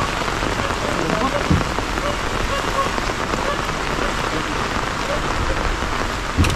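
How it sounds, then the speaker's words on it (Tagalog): Heavy rain pours down in a dense, steady roar with no letup, close by and loud, and a couple of faint thumps sound under it. "Grabe, maulan."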